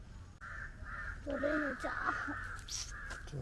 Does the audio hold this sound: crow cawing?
yes